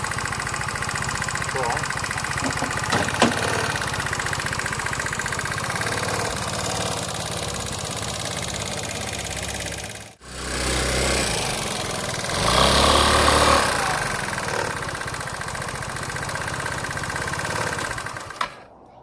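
A motorbike engine idles steadily close by, a rough mid-pitched running note that briefly cuts out and then picks back up, with a short spoken remark over it.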